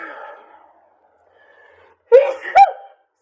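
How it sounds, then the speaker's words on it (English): A person lets out a loud, dramatic sneeze near the microphone, with a sharp intake of breath and then two quick explosive bursts after a brief quiet moment. "It's kind of a dramatic sneeze"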